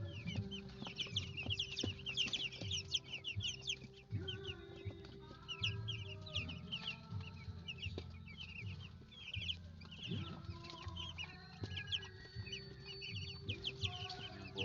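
Broiler chickens cluck steadily in a farm pen, many birds overlapping into a continuous chorus at moderate level, with occasional louder individual calls and no talk.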